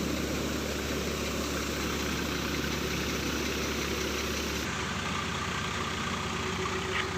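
A 60 hp tractor engine drives a Rajasthani cutter thresher set up for wheat, a steady dense drone that runs on without pause, loud and near, with a slight change in tone partway through.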